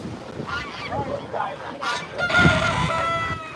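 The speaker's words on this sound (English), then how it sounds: "I'm not letting any other guinea birds out today" Guinea fowl and other poultry calling at an animal sanctuary, loud harsh repeated honking and cackling cries up close, with people talking alongside.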